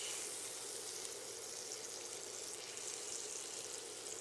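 Pork tenderloin searing in a hot pan, a steady, fairly quiet hiss of sizzling that holds evenly throughout without pauses or talking.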